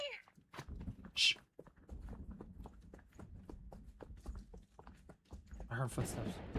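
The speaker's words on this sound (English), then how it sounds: "I heard footsteps." Footsteps in a video game: a quiet run of short, evenly spaced steps, faint and close, with a brief chime-like game sound near the start and a louder burst of game noise at the end.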